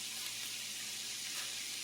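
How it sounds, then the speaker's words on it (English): Steady, close hiss of sausages sizzling in a hot frying pan for bangers and mash, continuous and even throughout with no voices. "As you can hear, it's starting to sizzle"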